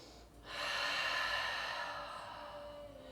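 A single long, audible breath is drawn in and slowly released while holding warrior two pose, close and soft, over a faint quiet background.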